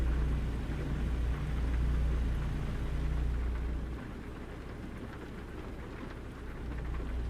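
Rain falls steadily in the truck-driving game American Truck Simulator, a constant hiss over a low engine drone with no one speaking.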